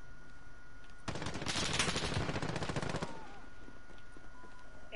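Rapid automatic gunfire in Call of Duty Modern Warfare multiplayer on the Cheshire Park map, a dense burst of about two seconds that rises out of quiet background and then cuts off.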